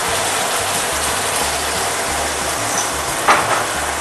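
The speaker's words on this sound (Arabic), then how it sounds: "هحط عصير الطماطم" Tomato juice poured into a cooking pan for a tomato sauce gives a steady, close hiss like sizzling or rain, with a low hum underneath and a short splash near the end.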